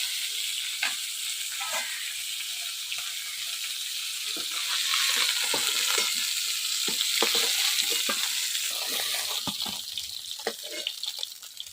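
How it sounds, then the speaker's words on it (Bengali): Pieces of bam fish (eel) fry in hot oil at a village kitchen, a loud, steady, hissing sizzle with crackling spatters that runs unbroken throughout. "এই দেখেন বাম মাছ পুরো লাল লাল করে ভাজা হয়ে গেছে"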